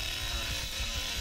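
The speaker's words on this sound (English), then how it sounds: "Keep on feathering that chainsaw. Don't let it overheat." Leatherface's chainsaw revs in The Texas Chainsaw Massacre video game, a dense, loud, continuous buzzing drone with slight wavering throughout.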